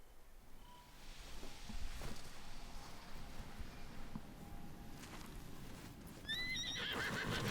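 A horse in the video game Ghost of Yōtei whinnies with high rising harmonic neighs near the end, following hoof clip-clops and rustling amid steady outdoor ambience.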